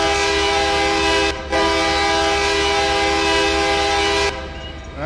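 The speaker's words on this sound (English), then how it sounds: "or K3LA, which is the horn." A K3LA locomotive horn in the Run 8 train simulator blares loud and sustained with rich tonal chords, briefly cut off near the start, then holds for about four seconds before stopping into a low rumble.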